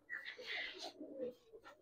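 Giribaz pigeons cooing in a short burst of soft, close calls, a few murmuring coos overlapping with faint chirps and light background noise.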